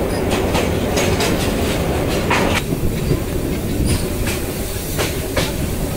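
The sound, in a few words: Tista Express train running in rain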